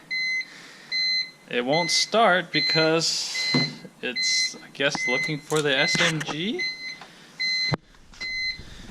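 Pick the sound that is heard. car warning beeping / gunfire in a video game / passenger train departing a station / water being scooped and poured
car warning beeping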